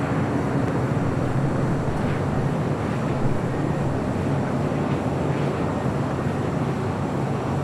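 A cargo airplane arriving at LAX from Shenzhen sends out a loud, continuous broadband rumble and roar that stays steady throughout, with no voices over it.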